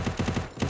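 Gunfire in a first-person shooter video game: a rapid burst of about five or six shots in under a second, played at a moderate level with no talk over it.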